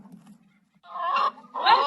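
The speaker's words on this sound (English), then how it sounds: "Those are white leghorns. All those chickens came from our large-scale hen rescues." White leghorn chickens in a rescue sanctuary's chicken yard, a flock clucking and calling in two loud bursts over a low background hum.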